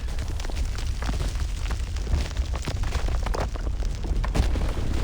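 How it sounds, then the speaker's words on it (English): A flashbang goes off in the video game Reverse 1999, a dense rumbling blast that fills the scene with sustained crackling, booming noise from start to finish. "Flashbang."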